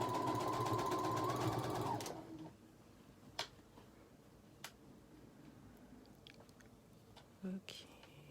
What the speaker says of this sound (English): So this is just my opening that I'm just going to sew into place.